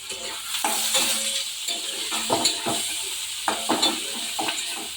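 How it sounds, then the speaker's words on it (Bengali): Onions, bay leaf and green chillies fry in a pan with a steady sizzle, broken by repeated scraping strokes of a spoon stirring them, close and fairly loud with no talk. "নেড়ে দেবো, একটু নাড়তে থাকবো।"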